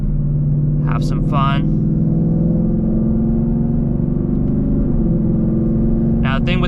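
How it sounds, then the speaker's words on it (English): A Ford Mustang engine downshifts from sixth to fifth gear using the paddle shifters, heard as a steady, close engine drone with a slight shift in pitch midway, while a person speaks briefly at the start and the end. "I'll do the minus here. I'm in 6th gear now. Drop it to 5th."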